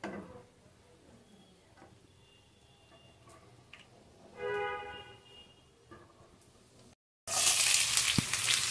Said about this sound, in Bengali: মরিচ পেঁয়াজ দিয়ে মরিচ পেঁয়াজটা ভেজে নিচ্ছি